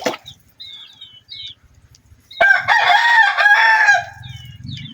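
A rooster crows once loudly and close by, a long ragged call, preceded by scattered bird chirps and soft clucking, with low rustling afterward.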